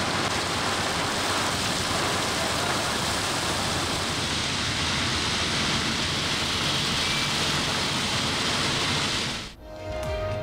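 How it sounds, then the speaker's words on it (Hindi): Steady, dense hiss of the first winter rain pouring down in Karachi, loud and continuous, cutting off abruptly near the end. "कराची में सरमा की पहली बारिश हो गई।"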